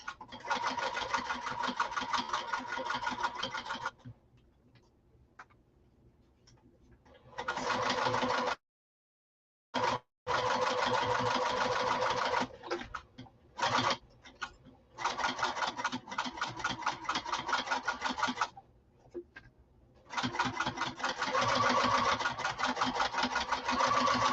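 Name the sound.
sewing machine stitching a slouch bag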